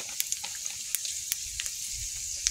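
Five-spice tempering sizzling in hot oil in a wok, a faint steady crackle with sharp little pops scattered through it, heard alone with no talk.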